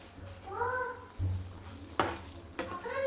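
Butter paneer gravy is stirred in a pan with soft scraping and a few distinct spoon knocks against the pan, under low frying sizzle while a person talks intermittently.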